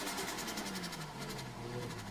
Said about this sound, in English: this is the actual sound of the turbo engine